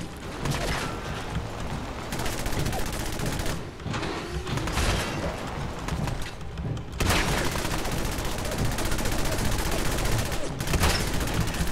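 Automatic weapon fire in Fallout 4 rattles in dense, continuous bursts with mechanical clatter, loud and sustained nearly the whole time, with brief lulls between volleys.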